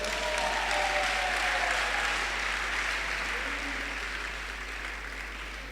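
A church congregation claps together in a steady, broad wash of applause that carries on throughout and slowly fades a little toward the end, filling the room at moderate volume.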